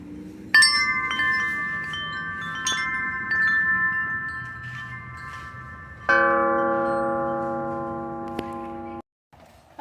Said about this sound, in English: these wind chimes.